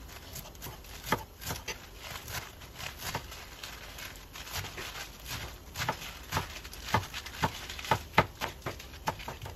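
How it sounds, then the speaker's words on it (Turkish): Finely chopping washed, garden-picked spinach with a knife on a board, a quick irregular run of soft thuds and taps, close and fairly quiet over light background noise. "İnce olacak şekilde doğruyorum hepsini"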